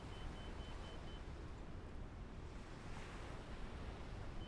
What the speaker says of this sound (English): Well, the waves are significant, that's for sure.